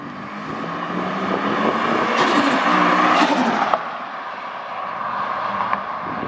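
A Ford Falcon on a test drive, its engine droning steadily from inside the car and swelling into a louder rev midway before settling back, with a sharp knock at the peak and no talk.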